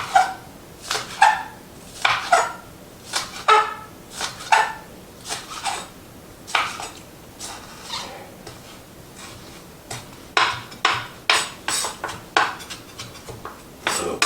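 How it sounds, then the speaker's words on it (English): Scallions diced with a knife on a cutting board, a long run of sharp, close chops coming in quick irregular bursts with brief pauses between. "we'll get the scallions diced"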